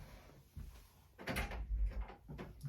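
A door is handled and pulled open indoors, giving a couple of soft knocks and a rattling thud with a low rumble, close and moderately loud, with no talking.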